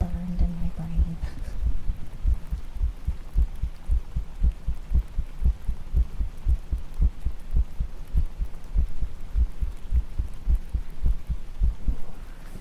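Steady heartbeat thumping in a regular lub-dub rhythm for the whole stretch, close and muffled like a stethoscope or microphone pressed to the chest, with a soft background hum.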